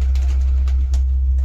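Pigeons coo softly under a strong low hum, short throaty calls close by in a loft holding a large flock of kept pigeons.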